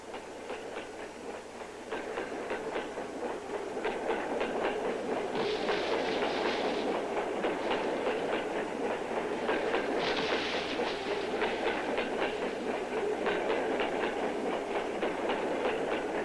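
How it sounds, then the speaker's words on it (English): A train rolls steadily along the rails in the countryside with a rhythmic clickety-clack of wheels over joints, a continuous rumbling ride without speech. "when the train slows down for these cows, we'll jump"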